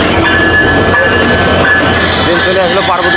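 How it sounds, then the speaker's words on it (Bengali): The Barendra Express pulls into Parbatipur junction with a loud, steady rumble of rolling wagons and a thin metallic wheel squeal running through it. "ট্রেন চলে আসলো পার্বতীপুর জংশনে"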